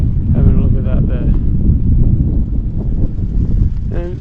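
Strong wind buffets a hilltop on Santorini, a loud continuous low roar and rumble battering the microphone, with a voice talking briefly over it.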